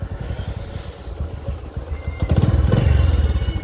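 A motorbike engine chugs in low, even pulses near the pond at Shree Antu in Ilam, then revs louder and rougher toward the end, close and alone.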